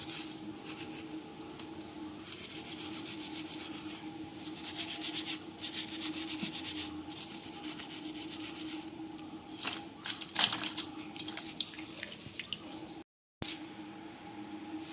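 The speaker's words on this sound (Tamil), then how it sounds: "அதனால் நம்ம இந்த மாதிரி ஸ்க்ரப்பில் தேய்ச்சி எடுத்துக்கலாம்." Raw crabs are scrubbed clean with a scrubber while being prepared for crab curry, making a continuous close scratchy rubbing with a few sharper scrapes and a brief gap near the end.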